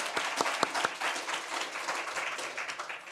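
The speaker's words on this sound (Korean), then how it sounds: "우리 다 같이 하나님께 영광의 박수 올려드릴까요?" A church congregation at a New Year's Eve service gives sustained applause, a dense wash of many hands clapping with a few sharper nearby claps standing out early on.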